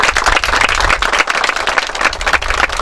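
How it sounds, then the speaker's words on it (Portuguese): Dense, steady applause from an audience clapping for inventors, loud and close, continuing without pause for the whole stretch. "Vamos dar uma salva de palmas aos inventores."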